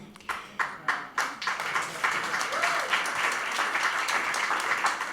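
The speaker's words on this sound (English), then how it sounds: "Oh, the old people clapping." Older audience members at a music event clap, starting with a few distinct separate claps that quickly swell into steady, fairly faint applause, with a voice briefly audible.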